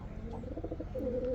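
Domestic pigeons kept in a loft coo softly, one brief low warbling call that is quiet and fairly close, with no voices.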